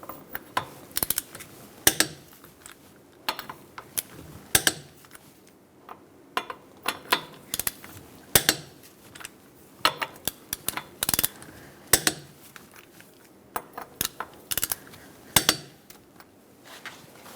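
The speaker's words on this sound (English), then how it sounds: "Using a 21 millimeter socket, we're going to torque our lug nuts to 76 foot-pounds." Ratcheting torque wrench with a 21 mm socket tightening lug nuts on a 2002–2006 Toyota Camry wheel, giving loud, close bursts of sharp clicking, repeated in irregular runs with short pauses between them.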